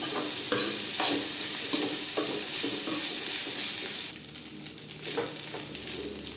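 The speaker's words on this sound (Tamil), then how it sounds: "சாப்பாடு சேர்த்துக்கலாம் நல்லா மிக்ஸ் பண்ணிடுங்க சாதத்தை" Cooked rice is stirred into fried egg in a hot pan for Tamil-style egg rice, with a continuous loud sizzle and repeated scraping strokes of the spatula close by that ease off slightly toward the end.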